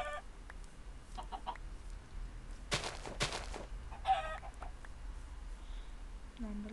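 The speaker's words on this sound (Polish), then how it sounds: "Banda kurczaków." Chickens cluck in a Minecraft game world, several short clucks and squawks scattered over a quiet background, with a couple of sharper bursts midway.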